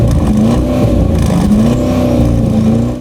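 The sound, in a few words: Audi SQ8 4-litre twin-turbo V8 petrol engine exhaust note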